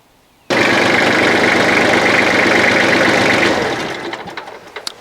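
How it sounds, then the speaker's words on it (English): A farm tractor idles steadily after starting up, warming to operating temperature outdoors; the close, loud engine drone holds even for a few seconds, then thins and falters toward the end. "Been letting my tractor sit here and idle a little bit, come up to operating temperature."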